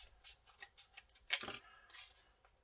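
Scissors cutting through mask material, a quick series of close, crisp snips with one louder cut in the middle, alone in a quiet room.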